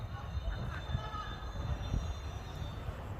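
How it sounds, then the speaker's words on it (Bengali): A train rolling past near a river, a steady low rumble of wheels and carriages with faint metallic squeals, continuous and moderately near, with a voice talking over it. "ট্রেন যাচ্ছে এখন আমাদের এখানে"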